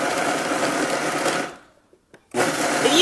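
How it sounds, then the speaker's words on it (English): A kitchen blender grinds cashews, almonds and coconut into powder, a loud buzzing whir for about a second and a half, then a brief pause and the motor starting again. "We're gonna take the cashews, the almonds, and the coconut and kind of make like a powder with it."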